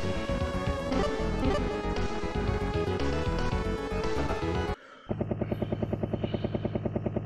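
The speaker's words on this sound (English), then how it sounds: "Oh no. A helicopter?" An enemy helicopter in the retro beat-'em-up video game Final Fight 3 makes a loud, steady synthesized rotor chop, breaks off briefly, then resumes as a sharp regular pulse alongside game music.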